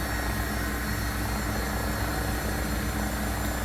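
AgustaWestland AW109 SP helicopter air taxiing in X-Plane 12, a constant loud rotor and turbine whine droning evenly throughout with no voices.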